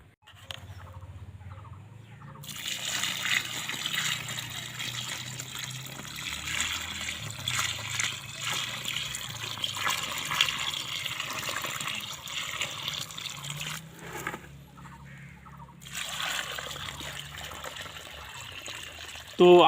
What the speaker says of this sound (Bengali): এবার আমি পুরোটা করে জল লাগাই দেবো।